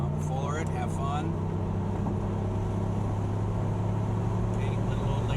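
A car accelerates at full throttle on the Gingerman Raceway track, its engine a loud, steady roar that holds throughout, with a brief stretch of voices near the start.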